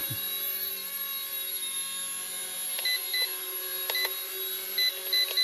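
An RC MD 500 model helicopter hovers, its steady high-pitched electric whine holding constant while several short electronic beeps from the transmitter sound during trim adjustment.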